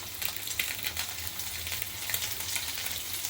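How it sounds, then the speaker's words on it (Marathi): Hot oil sizzles and crackles steadily as small rava-coated mandeli fish fry on a hot tawa, with little pops and spatters close by. "आता आपण फ्राय करूया तवा गरम झालेला आहे तेल घालायचं आहे"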